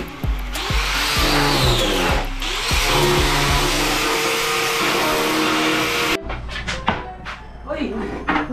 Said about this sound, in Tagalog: Kailangan talagang grinder rin kasi matalim ang fibra.